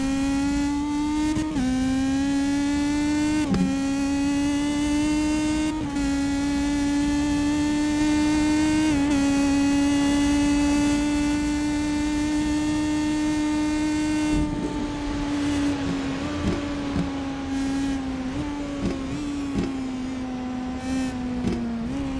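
Race car engine in a racing video game on the Nürburgring Nordschleife, a loud, close, sustained tone that shifts pitch with each gear change, with several quick upshifts and downshifts through the corners and no talk.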